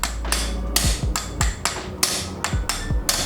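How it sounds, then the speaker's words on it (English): A hammer taps pins out of a Mazdaspeed 3 transmission during a rebuild, giving a steady series of about nine sharp metallic strikes roughly every third of a second, close and loud with no talk. "I'm gonna take my hammer."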